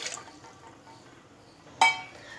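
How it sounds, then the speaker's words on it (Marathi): A bowl of water is poured into a cooking pot while making wheat kurdai: a quiet background, then a single short, bright splash of pouring water. "इथे मी एक वाटी पाणी घालत आहे"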